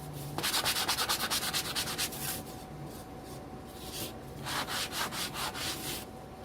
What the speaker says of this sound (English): I'm going to finish sanding the back of these.